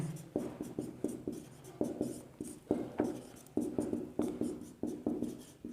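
Chalk or pen strokes writing out a lecture on mechanics, a steady series of short scratchy taps and drags in irregular rhythm, close and clear with no voices.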